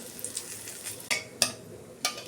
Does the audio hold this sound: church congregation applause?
no